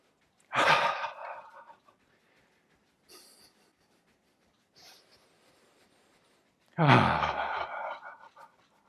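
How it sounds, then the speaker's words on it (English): Deep, full breaths drawn in close to the microphone, two long breathy inhales that bracket a pair of faint shorter breaths, with quiet pauses between them. "So full breath in. A nice full satisfying breath in."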